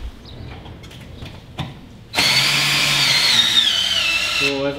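Cordless power tool loosening screws on the battery of a Think City electric car, a few faint clicks and knocks, then a loud steady high-pitched motor whine running for over two seconds before winding down.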